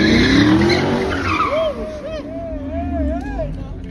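A car spins out with long tire squeals and a roaring engine at a night car show in downtown Savannah, loud and close over crowd noise, with people talking.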